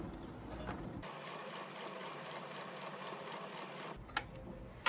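A sewing machine stitches the fingers of a long opera-length glove, its steady mechanical whir and ticking running continuously with no talking, followed by a couple of faint clicks as it stops.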